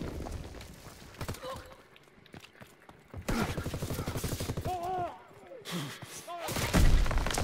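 Gunfire in Call of Duty: WWII: rapid, dense volleys of shots from several weapons in busy bursts. A player speaks excitedly between and over the firing.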